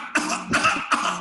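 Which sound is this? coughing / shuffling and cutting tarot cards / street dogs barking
coughing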